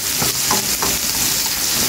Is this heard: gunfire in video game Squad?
no